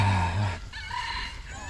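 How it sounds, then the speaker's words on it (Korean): A rooster crows in Singapore Botanic Gardens, a loud, close, drawn-out call opening the moment before it fades into mixed fowl clucking and outdoor background. "닭이 겁나게 많아가지고 양 사방에서 닭 소리가 들려. 꼬끼오 이렇게."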